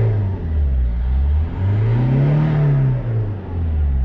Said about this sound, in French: Et il prend bien ses tours, tu vois.